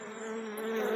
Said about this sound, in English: The whole corner is solid bees from the hole all over.